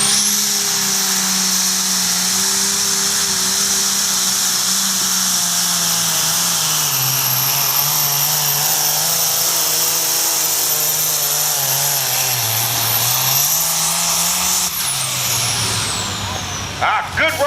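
A big New Holland tractor pulling a sled at a tractor pull roars loud and close in a sustained engine howl, its pitch dipping and rising as it labors, then cutting off abruptly near the end.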